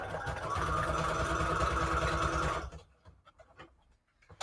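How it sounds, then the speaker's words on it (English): A sewing machine stitches through a paper envelope made from decoupage napkin book paper, running steadily and close for about two and a half seconds before stopping, followed by faint handling clicks. "Part we gotta sew."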